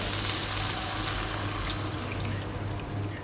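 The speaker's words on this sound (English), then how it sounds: "Now we'll add in 1 cup of water." A cup of water pours into tomato paste in a cooking pan, a steady splashing, running-liquid sound that stays close and fairly loud throughout the short stretch, with no talking.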